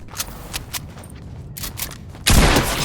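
Bursts of video game gunfire crack in quick volleys, then a dense sustained roar of shooting swells near the end, loud and close with no speech.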